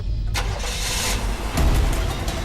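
A car engine cranks and catches, then runs and revs briefly, fairly close and loud, with a second surge of engine noise partway through.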